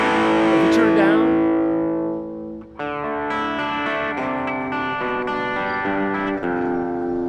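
An electric guitar plays through a Blackstar Fly 3 watt amp at moderate gain: a sustained chord rings out and decays, then new notes and chords follow with a slightly distorted, echoey tone.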